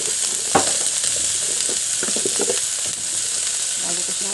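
Mixed vegetables sautéing in a pan with ginger, giving a steady close sizzle broken by a few clinks and scrapes of stirring, with no talk.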